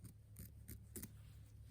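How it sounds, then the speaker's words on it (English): Appliqué scissors trim fabric close to a tack-down stitch on an embroidered appliqué, making four or five quiet, crisp snips spaced a fraction of a second apart. "I'm just going to get as close as I can with applique scissors to the tack down stitch"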